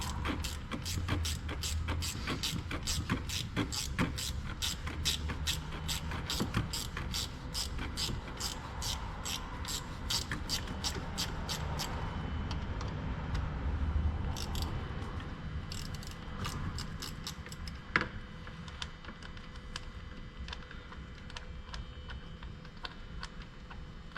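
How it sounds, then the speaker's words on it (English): A 10mm gear wrench ratcheting a ground bolt loose on a Hyundai 2.4 engine, a rapid run of close, crisp clicks that slows into sparser ticks, with one sharper knock later on. "Come in here with a 10mm gear wrench. Break that ground bolt loose."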